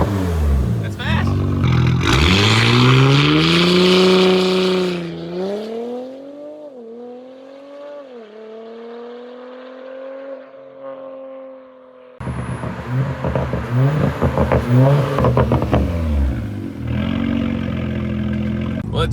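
A tuned B9 Audi S5 running E85 with a Stage 2 tune accelerates hard, its engine note climbing through rising gears with shifts and a quieter stretch, then roaring loudly again.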